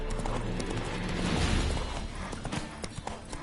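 Horse hooves clip-clop steadily in a video game as the rider's horse is spooked, a rhythmic series of close hoof knocks over a soft background, with a brief whinny-like cry.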